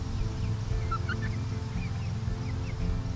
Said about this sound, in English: Yeah, Carmen's gonna be a beautiful golden lace Wyandotte